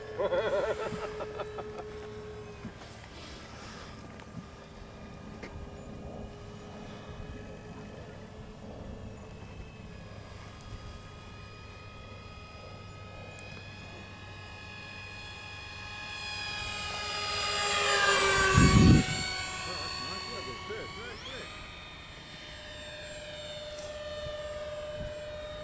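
A radio-controlled model Airbus A320 whines steadily at an airfield, its pitch sliding as it passes along the runway and swelling to a loud close pass before fading into the distance.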